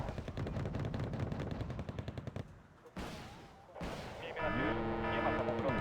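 Automatic weapon fire crackles in rapid, repeated bursts during a Wargame: Red Dragon battle, with dense rattling volleys at the start, then brief gaps and impacts, and a steady mechanical drone under later shots, all loud and close.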